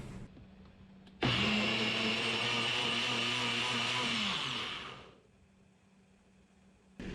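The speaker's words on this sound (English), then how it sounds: "And then we're going to blend this up." A blender blending peppers and lime juice whirs loudly for about four seconds with a steady motor pitch, then winds down into a quieter hum before another burst starts.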